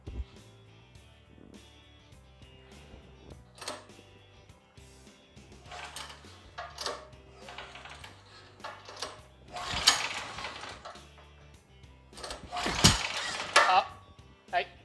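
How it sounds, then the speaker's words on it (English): A Firman generator is cranked by pull-start: faint mechanical clicks and rattles, then two louder rasping recoil-cord pulls near the end, with some talking. "Let's crank, see if she'll crank up."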